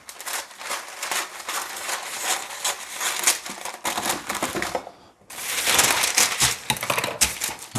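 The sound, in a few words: cutting dirty parchment paper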